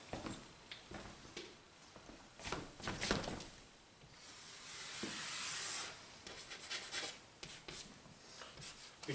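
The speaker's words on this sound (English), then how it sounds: "Well, what if we draw a line?" A marker or pen draws a line across a board in a lesson on functions, giving soft rubbing, scratching strokes. The strokes come in short bursts and then one longer, louder sweep, close and fairly quiet.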